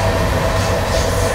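Agnibina superfast express running from Howrah to Asansol, a steady close rumble with rhythmic clattering of wheels on rails and a faint high squeal, constant and loud.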